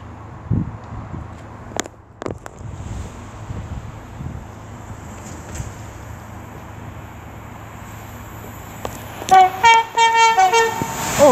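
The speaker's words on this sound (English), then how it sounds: "now about to pass by is going to be an Avanti West Coast Pendolino from Liverpool to London" An Avanti West Coast Pendolino running from Liverpool to London rushes past at Lichfield Trent Valley, a steady roar of rolling stock building over several seconds, then a loud multi-tone horn sounds close by near the end.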